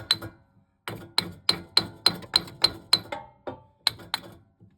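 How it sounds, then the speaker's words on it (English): A hammer taps a differential yoke onto the pinion during a Ford Mustang 8.8 rear end rebuild: a short burst of about ten sharp, ringing metallic blows in a fairly even rhythm, close and loud, with a brief pause before two final taps. "So we're just gonna tap our yoke on a little bit."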